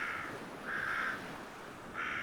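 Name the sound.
crow cawing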